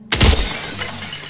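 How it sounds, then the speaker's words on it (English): Objects smash and shatter in a video game, a single close, loud burst of breaking glass with a crash that trails off into scattered debris. "I think I'm actually getting used to you smashing stuff up"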